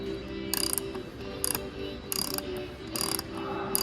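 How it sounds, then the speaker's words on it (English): Ratchet wrench turning a fastener on a 6.0 Powerstroke diesel engine: repeated short bursts of rapid metallic clicking, about five strokes in a steady rhythm, heard up close over a low background hum. "Two-handed ratcheting."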